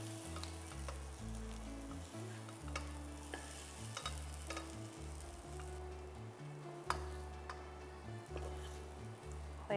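Kashmiri aloo dum with garam masala sizzles steadily in a pan while being stirred, with a continuous frying hiss broken by occasional utensil scrapes, close and even in level, over a low background hum.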